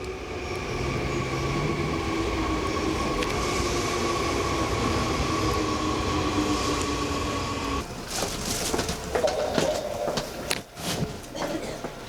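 A Seoul subway Line 2 train runs with a steady rolling roar and high whine, then slows and quiets as the rumble breaks into clunks and rattles, with a faint voice underneath.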